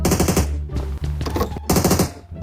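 Rapid automatic gunfire from PUBG Mobile comes in loud, dense bursts with a brief break in the middle, close and continuous.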